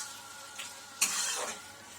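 Hilsa fish heads being stirred with taro greens in a pan, a faint soft sizzle with a brief scrape of the spatula in the middle, quiet and close.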